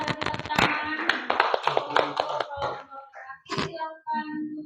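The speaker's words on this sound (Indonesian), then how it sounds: "Oke, kita tepuk tangan." A classroom of students claps quickly and unevenly after a presentation. The clapping fades after a couple of seconds, and children's voices continue afterwards.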